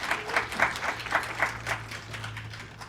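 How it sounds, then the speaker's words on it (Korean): A modest audience at a startup demo day claps in a sparse, uneven rhythm of distinct hand claps that stays moderately close, with a low hum running underneath. "역시 큰 박수 부탁드리겠습니다."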